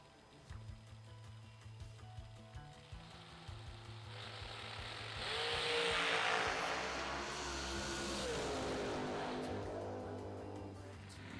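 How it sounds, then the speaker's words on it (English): Drag race cars at a heads-up drag race sit burbling with rhythmic staging revs, then launch into a loud roaring surge that swells and fades as they run down the track. "Heads up drag race."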